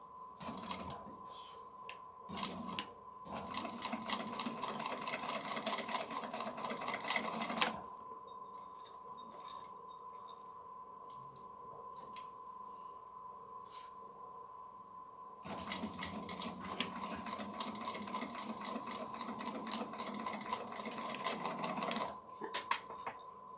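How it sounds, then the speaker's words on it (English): Sewing machine running a basting stitch in two long bursts of rapid mechanical clatter, with a quieter hum between them and a steady tone throughout. "now I can do my top stitch down here. Not my top stitch, but my basting stitch."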